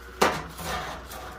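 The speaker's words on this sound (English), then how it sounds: "And you can hear it. They pretty much immediately just fracture." A single sharp crack of hot glass gems fracturing in ice water sounds once against a quiet background, followed by faint residual noise.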